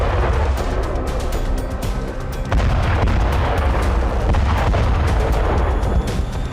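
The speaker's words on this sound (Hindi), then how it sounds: "उत्तरी गाजा इजराइल की बमबारी से दहल रहा है" Israeli bombardment in northern Gaza comes through as loud, heavy booms and rumbling blasts, with a sharp burst midway. Deep concussive thuds and reverberating roar fill the whole stretch.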